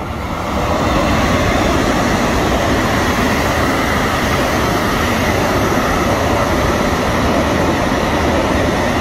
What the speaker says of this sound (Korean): 기차야. 우와.